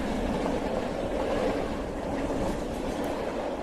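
Train wheels rumbling as a sound effect in a Bengali horror audio drama, a continuous low, steady roar that holds evenly throughout without a clear whistle.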